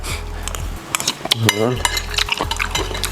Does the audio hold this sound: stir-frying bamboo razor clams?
yes